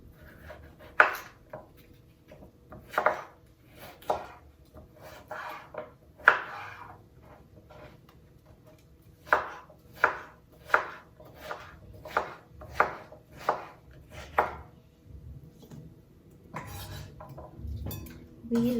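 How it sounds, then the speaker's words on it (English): A knife cuts a cucumber into cubes on a cutting board, about a dozen crisp chops in uneven bursts, some quick runs of three or four strokes, close and clear with quiet gaps between and no voices. "So just discard both ends and just cut into cubes or diced."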